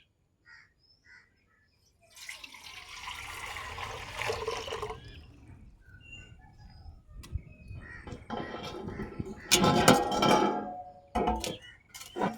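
Rainwater pours and splashes into a container in uneven bursts, close and fairly loud, with brief pauses between pours.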